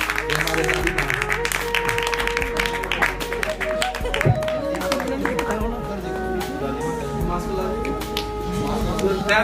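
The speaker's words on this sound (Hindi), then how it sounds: "इनके लिए फिर से जोरदार तालियां" Loud applause rises from the audience at a prize distribution ceremony, honouring an elderly grandmother who sat an exam. Dense, steady clapping runs throughout with voices and background sound mixed in.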